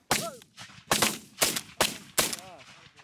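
Shotgun blasts during an early-season goose hunt, five sharp, loud reports fired in quick succession about half a second apart, with geese honking faintly in between.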